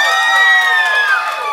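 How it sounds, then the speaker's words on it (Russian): A group of players in a team game cheers and shouts together, a loud, sustained burst of raised voices that fades slightly toward the end of the short moment. "Аплодисменты второй тройки игроков."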